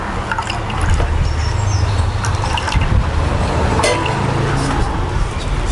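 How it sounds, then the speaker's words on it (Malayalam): Strained coconut milk pours steadily into water, a loud continuous liquid splashing and trickling close up, with occasional faint clinks. "ആ വെള്ളത്തിലേക്ക് നമ്മുടെ ഈ തേങ്ങ നമ്മളങ്ങ് അരിച്ചങ്ങ് ഒഴിക്കുക"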